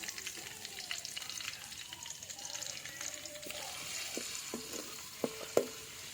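Green chilies sautéing in oil in a pan for a Kerala-style chicken curry, a steady low sizzle with scattered spoon scrapes and a few sharp knocks near the end.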